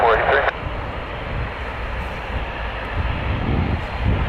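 A Delta airliner roars down the runway on its takeoff roll at Vancouver airport, a steady broad jet rumble heard from a distance, with a brief radio voice at the start.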